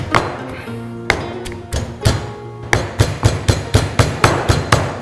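Green chilli, ginger and garlic pounded with a pestle in a mortar, close and loud: a few irregular thuds at first, then a steady run of regular, evenly spaced heavy strikes.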